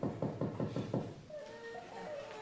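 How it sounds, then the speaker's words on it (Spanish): Five quick, evenly spaced knocks rap on a house door, close and clear. Softer tonal sounds follow once the knocking stops. "Alguien llama a la puerta."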